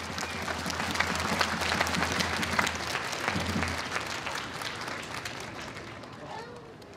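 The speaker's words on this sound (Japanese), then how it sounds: "今一度大きな拍手をお願いいたします。" A stadium crowd at a Japanese JFL football match between Suzuka Point Getters and Reinmeer Aomori applauds after the hero interviews, broad sustained clapping over a low hum, slowly easing off toward the end.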